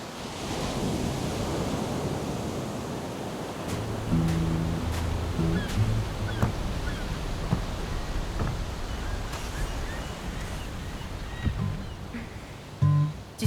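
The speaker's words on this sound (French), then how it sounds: "écouter le bruit des vagues" Ocean waves wash continuously onto an island shore in a steady, full surf roar, with a few faint clicks and knocks mixed in near the end.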